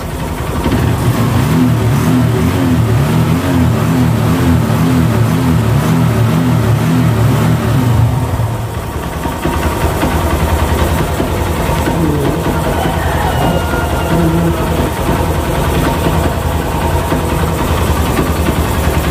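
A Honda Verza motorcycle engine, test-started after its throttle body was cleaned, revs loudly and rhythmically for about eight seconds, then settles into a steady, even idle for the rest of the clip without stalling.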